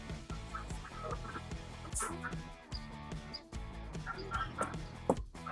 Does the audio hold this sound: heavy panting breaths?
no